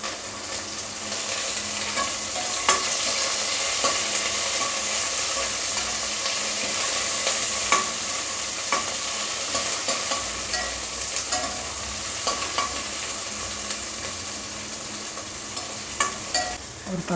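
Vegetables and curry leaves sauté in a pan for brinjal and drumstick sambar, giving a steady loud sizzle and hiss with occasional clicks of stirring throughout.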